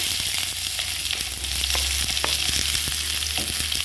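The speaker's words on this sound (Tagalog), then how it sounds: "Nagluto tayo ng sardinas, guys." Sardines fry with garlic and onion in a hot pan, giving a loud, steady close-up sizzle broken by occasional stirring clicks and scrapes.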